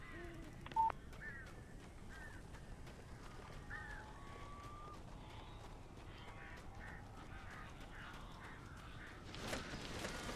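Eerie birds cawing in the Alan Wake horror game: a string of short, moderately faint caws spaced irregularly over a low ambient hum, with a brief rushing swell near the end.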